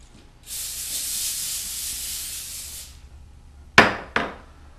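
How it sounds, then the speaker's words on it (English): A spray nozzle lets out a steady hiss of canola oil onto pastry sheets on a baking sheet for a couple of seconds, then two sharp clacks follow in quick succession. "spray it gently with canola oil"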